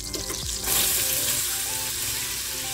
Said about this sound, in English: After the butter is all melted, add in the diced apples